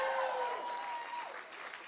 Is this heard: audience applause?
yes